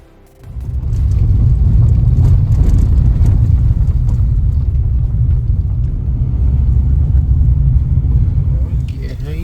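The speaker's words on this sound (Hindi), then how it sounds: "ड्राइवर को ब्रेक लगा लगा कर गाड़ी को बेहद सावधानी से नीचे उतारना पड़ रहा है।" A vehicle creeps down a steep, rocky mountain road between Pokhara and Muktinath in Nepal under repeated braking, giving a loud, steady low rumble that holds for most of the stretch.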